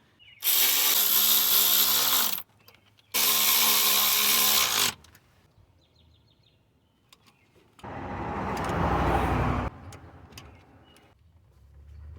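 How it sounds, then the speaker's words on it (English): A power tool with a 6mm hex socket spins bolts on a Nissan Pathfinder 3.5L engine. There are two loud bursts of about two seconds each, a pause, then a longer, lower whir, with faint clinks in between. "This is a 6mm socket here, hex, Allen, whatever you want to call it."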